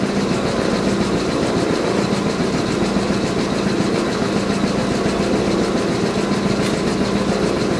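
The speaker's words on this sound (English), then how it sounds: "We'll wait till the compressor goes off and explain it." An old antique air compressor in a workshop runs loud and steady, giving a dense mechanical rumble with rapid rhythmic chugging throughout, with no voices heard.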